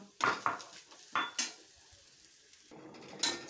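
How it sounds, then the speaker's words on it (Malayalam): Golden fried onions with mint and coriander leaves being stirred in ghee, heard as a few close spoon-against-pan scrapes and clinks over a quiet, faint sizzle. "സവാള ഗോൾഡൻ കളറായി ഇനി നമുക്ക് പുതിന ഇല മല്ലി ഇല അതിനകത്തേക്ക് ഇട്ട് കൊടുത്ത് ഒന്ന് ഇളക്കി യോജിപ്പിച്ച് ഓഫ് ചെയ്യാം"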